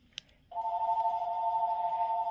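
A house phone rings steadily and fairly loudly after a brief click, a continuous electronic trill that carries on without interruption, with no talking over it.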